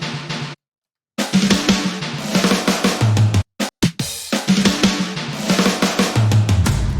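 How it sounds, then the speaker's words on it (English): Acoustic drum fills playing in an FL Studio track, a busy run of loud kick and snare hits with cymbal wash, broken by a couple of brief dropouts before the pattern resumes, no voices. "So that's what the acoustic fills sound like."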